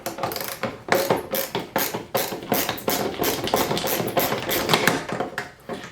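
Phillips head screws being worked loose from a headlight mounting bracket on a 2019 Toyota 4Runner, a close series of ratcheting clicks and metallic taps in irregular bursts, fairly loud and with no speech.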